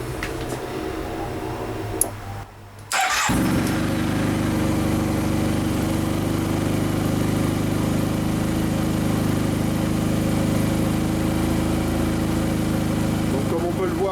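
A Yamaha TMAX 2008–2011 scooter engine cranks with a brief starter whine and catches, then settles into a steady, close idle hum that continues unbroken.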